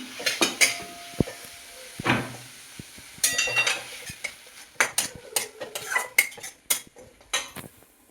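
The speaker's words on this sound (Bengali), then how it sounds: "মিডিয়াম আঁচে দিয়ে মাংসটা কষে নেব" Minced chicken stirred and fried in a pan over medium heat, with irregular metallic scrapes and clanks of a utensil against the pan over a faint sizzle, some strokes loud and close, others soft.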